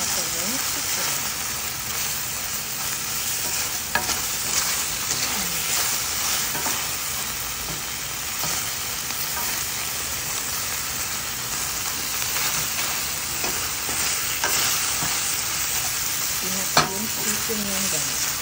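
Chicken pieces frying for a Filipino adobo dish, sizzling steadily and loudly in a pan with occasional stirring scrapes, a continuous hiss throughout.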